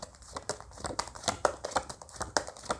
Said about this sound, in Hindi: पहले हम सारे cards निकाल लेते हैं